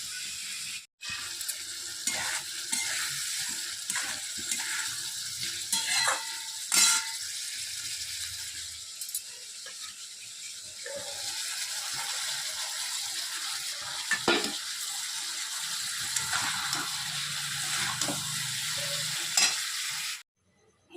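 Tomato goes into a frying cabbage curry, with a spatula scraping and stirring the pan in irregular strokes over a steady close sizzle that runs throughout, and no one talks.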